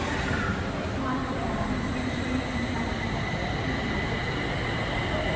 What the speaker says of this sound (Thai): รถไฟกำลังสิมาครับ